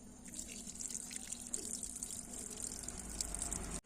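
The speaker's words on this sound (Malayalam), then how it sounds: "കുറച്ച് വെള്ളം ഒഴിച്ച് കഴുകി കളയണം" Water pours and trickles faintly but continuously while rinsing out the coolant system of a Pulsar NS 200 motorcycle, with small drips and splashes scattered over a steady flow.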